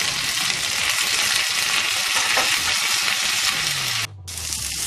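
Potato pieces frying with salt in a pan while being stirred, a constant close sizzle broken by spatula scrapes, briefly dipping near the end.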